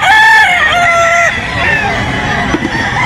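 A rooster lets out a loud, close crow among gamefowl offered for sale at Grotto, Bulacan. Background chatter and crowd noise continue under and after the call.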